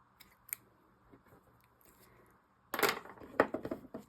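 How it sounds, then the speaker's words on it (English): Scissors snip the yarn ends off a small crocheted pumpkin: faint isolated clicks early on, then a cluster of louder close snips and rustles near the end, with no talking. "And then just take our scissors and trim our ends off."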